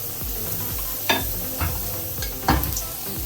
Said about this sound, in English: we are going to add the mixture into the pan